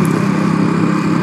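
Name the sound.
auto rickshaw engine passing on road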